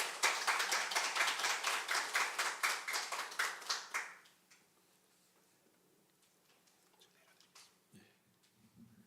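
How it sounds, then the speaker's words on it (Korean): A church congregation at Sunday worship claps to welcome the pastor: brisk, evenly spaced claps in unison for about four seconds, then they stop abruptly, leaving a quiet room with faint scattered noises. "우리 목사님 나오실 때 박수로 환영하도록 하겠습니다."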